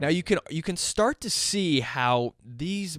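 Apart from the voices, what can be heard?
No everyday noise stands out behind the speech.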